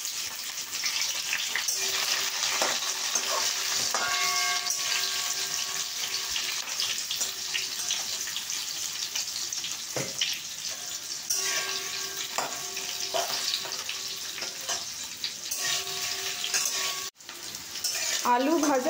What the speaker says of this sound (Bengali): তারপর আমরা আলুগুলোকে দিয়ে ভেজে নিচ্ছি